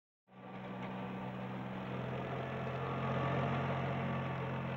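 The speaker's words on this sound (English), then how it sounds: "The rugged 26-horsepower diesel engine of the 1710 makes for easy ploughing in the toughest conditions." Ford 1710 tractor with a rugged 26-horsepower diesel engine starts up and runs steadily, a loud, close, continuous rumbling drone with a faint knock that holds even for several seconds, with no voices.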